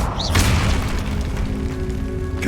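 Booming blast of the Confringo explosion spell in the video game Hogwarts Legacy, a dense rumbling burst that fills the short moment with no voices over it.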